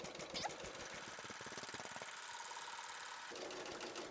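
A serger stitches a rolled hem on a placemat with a close, rapid mechanical chatter that changes pace partway through, briefly slowing to a lighter hum before speeding up again.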